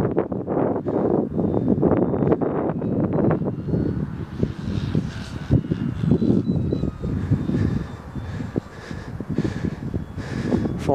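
Steady, loud wind buffeting the microphone during a Dynam Tempest model plane flight, a continuous rumbling roar with gusty surges throughout.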